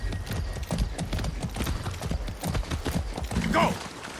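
A horse in Far Cry 6 clip-clops in quick, close hoofbeats under steady background game sound, with a brief voice near the end.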